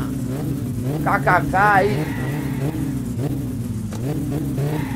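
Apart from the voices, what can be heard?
turbocharged car engine revving in My Summer Car video game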